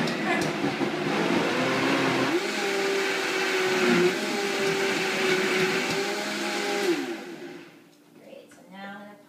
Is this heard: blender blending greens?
yes